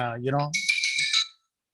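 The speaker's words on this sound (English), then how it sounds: "there are too many phone calls today" A phone rings briefly during a World Environment Day talk. One short, bright electronic ring lasts under a second and follows a spoken phrase.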